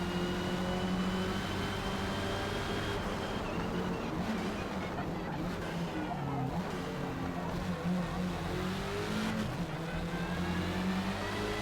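Racing car engines from the Forza Motorsport video game whine and rev continuously, pitch rising and falling through gear changes and corners, loud and steady throughout.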